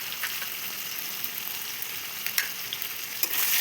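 Flattened-rice pulao with potato and garam masala is stirred in a hot pan, giving a steady close sizzle broken by light scraping knocks of the spoon.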